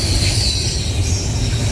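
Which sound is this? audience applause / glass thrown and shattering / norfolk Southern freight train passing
norfolk Southern freight train passing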